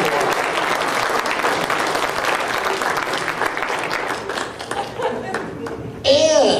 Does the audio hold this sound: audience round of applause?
yes